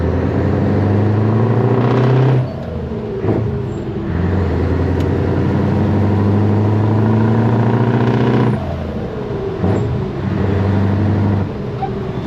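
A Scania 143 500 V8 truck engine revving: a deep, loud rumble rises through several long, sustained revs, drops back to idle between them, then climbs again.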